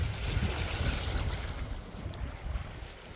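Sailboat under spinnaker running in strong wind and waves near small islands, with steady roaring wind buffeting the microphone over the rush of water along the hull, fairly loud and continuous, no voices.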